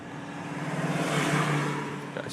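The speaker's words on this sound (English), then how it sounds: "I'll let this car pass me." Car passing by on a residential street, a broad rising and falling whoosh of tires and engine heard from inside another vehicle, steady and fairly close, with no talking.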